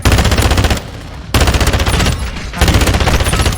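Rapid bursts of automatic gunfire in Call of Duty: Modern Warfare II, loud and close, firing in three long volleys separated by short pauses.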